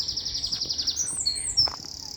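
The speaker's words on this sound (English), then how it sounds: "Look at the birds, the ducks." Birds chirp outdoors near ducks, a fast repeated high trill followed by a few sharper calls, fairly close and clear, with no talking.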